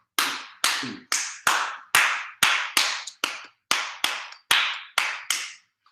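Bare hands clap out a rhythmic pattern in a Philippine native music workshop, about thirteen sharp, close claps in an uneven repeating grouping, each ringing briefly, with no talk.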